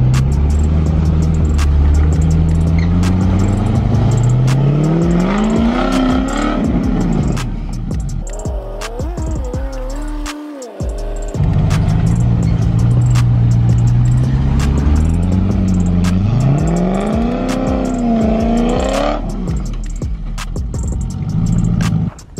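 A Land Rover Discovery 4WD grinds up a rutted off-road track, its engine loud and close, repeatedly revving and easing off in rising and falling surges, with a brief dip near the middle before labouring on.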